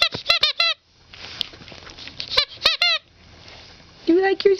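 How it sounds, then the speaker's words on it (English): A dog's squeaky toy squeaks in loud, sharp bursts, some in quick triplets, with a brief gap of quieter rustling, played with by six-week-old puppies close by. "Is that your squeaky toy?"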